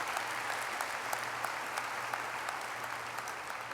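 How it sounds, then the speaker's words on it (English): Steady applause from an audience at an award ceremony, a dense even patter of many hands held at moderate distance with no talk over it. "I'll clap for her too if you want to clap."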